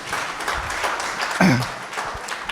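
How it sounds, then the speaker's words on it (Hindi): A Kavi Sammelan poetry gathering audience claps for a poet, a fairly close, continuous wash of applause with a brief voice rising through it midway. "एक बार मेरे लिए भी जोरदार ताली बजा दीजिए"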